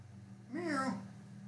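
A single drawn-out meow rises and falls, close by, over a low steady hum in an otherwise quiet room.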